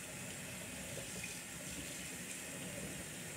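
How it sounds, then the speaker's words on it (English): Kitchen tap water runs steadily as something is rinsed under it, a continuous soft hiss with no talking, fairly quiet. "I'm going to go ahead and rinse this off."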